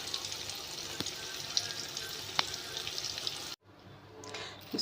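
Onions fry in hot oil for Egyptian koshari, a dense, steady sizzle with occasional crackles that cuts off abruptly near the end.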